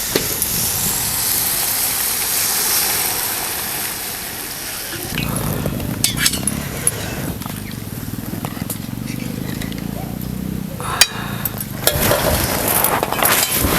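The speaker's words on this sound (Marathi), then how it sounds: "आता हे पाणी ओतूया" Water poured into a pan of hot roasted masala for a homestyle fish curry, giving a broad rushing hiss of steam that shifts into a lower bubbling rumble, with occasional clinks of utensils close by.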